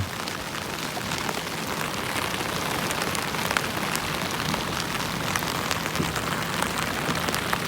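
Heavy rain pours steadily over a mangrove forest near a sandbar island in Phang Nga, Thailand, a dense continuous hiss with no voices.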